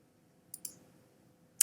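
A computer mouse gives three crisp, isolated clicks in a quiet room: two in quick succession, then one more after a short pause.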